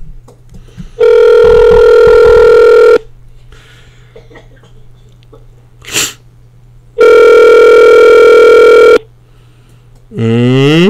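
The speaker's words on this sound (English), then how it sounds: "Let me see if he'll answer the phone." Telephone call tones, two long loud harmonic ringback buzzes each about two seconds, separated by quiet gaps over a low steady hum, with a short click and a rising tone at the end.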